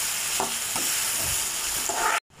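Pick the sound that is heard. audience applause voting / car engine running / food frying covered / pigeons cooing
food frying covered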